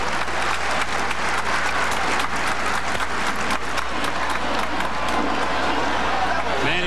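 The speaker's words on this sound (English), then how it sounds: "The crowd getting into it." A large baseball stadium crowd at the 1995 Major League Baseball Home Run Derby applauds and cheers steadily, a dense, continuous wash of clapping and shouting that holds loud from start to finish.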